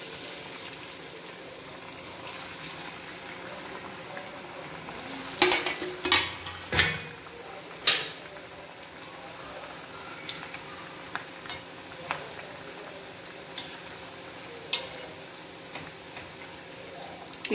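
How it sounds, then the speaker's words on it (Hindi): Chakli fry in hot oil over a medium-low flame, giving a soft steady sizzle throughout with scattered sharp clinks and taps of a utensil against the pan, fairly quiet and close. "एकदम मीडियम आंच पे इसको तलने का है, एकदम धीमे आंच पे।"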